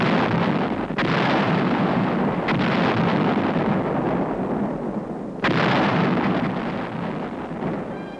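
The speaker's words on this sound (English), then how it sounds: "Our 155's blast evacuated Wijeonbu." American 155 mm artillery guns fire during the Korean War in 1951 on old newsreel sound. A dense, continuous roar is broken by several sharp, heavy blasts, with no voices.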